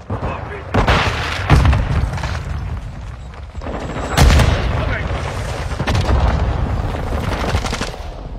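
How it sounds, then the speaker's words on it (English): Gunfire in Call of Duty: Modern Warfare II, sharp loud shots and bursts with heavy booms at intervals over a rumbling battle bed, with voices shouting now and then. "You're shooting friendlies!"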